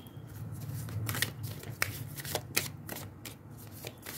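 Oracle cards shuffled by hand in a steady run of papery flicks and rustles, close up, over a low constant hum in the room.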